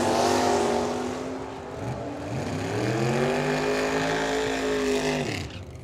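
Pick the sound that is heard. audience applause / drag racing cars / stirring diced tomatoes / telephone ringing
drag racing cars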